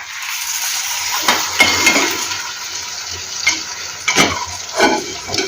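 Madata kaja dough frying in a pan of hot oil, a soft continuous bubbling sizzle broken by sharper clinks and scrapes of a utensil, close and without talk.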